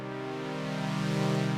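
A synthesizer pad in Ableton Live with its noise layer dialed up holds sustained harmonic tones beneath a soft hiss, swelling gradually louder, with no voices.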